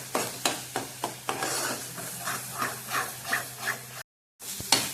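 Rhythmic stirring strokes scraping through a thick spice paste for mutton curry sizzling in oil in a wok, close up and regular, then a brief cut to silence.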